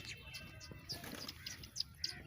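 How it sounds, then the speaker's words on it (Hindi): Faint flutter of wings from pigeons taking flight in a village, soft and distant, with a few high chirps over a low background rumble. "कबूतर सब उड़ रहे हैं।"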